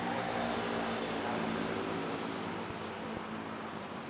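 Airliner taking off from runway 24 at Manila airport, its jet engines giving a steady, broad roar at moderate distance that holds evenly throughout with no talk over it.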